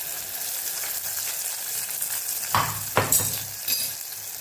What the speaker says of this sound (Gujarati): ડુંગળીને આપણે સરસ સાતળી લેવાની છે, લાઈટ પિંક કલરની થાય ત્યાં સુધી આપણે ડુંગળીને સાતળવાની છે।